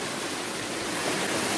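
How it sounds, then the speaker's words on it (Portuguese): Steady, dense rush of falling water at the Cachoeira dos Sonhos waterfall in Serra Negra, a continuous broadband roar with no voices over it. "estamos aqui na Cachoeira dos Sonhos, em Serra Negra"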